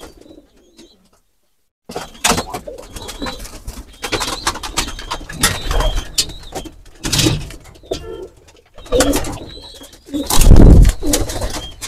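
Pigeons, including Sirazi pigeons, coo inside a pigeon house, with bursts of rustling and wing flapping rising and falling around them and no talk.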